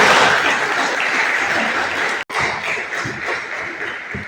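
Sustained crowd clapping fills a Medal Day ceremony hall honouring Khashaba Jadhav, loud and steady throughout, with a brief momentary break midway before the applause carries on.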